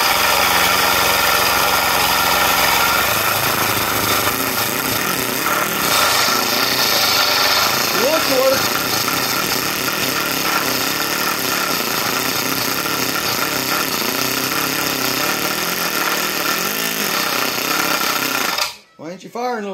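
A 5.1 engine cranking over repeatedly without catching, a loud, steady mechanical churn with rhythmic pulsing that runs nearly twenty seconds before cutting off abruptly.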